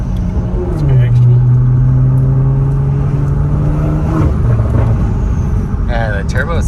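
Turbocharged Toyota Supra engine running on E85 with a full-bolt-on setup, a strong steady drone that rises then holds a sustained pitch before dropping off, with people talking over it near the end.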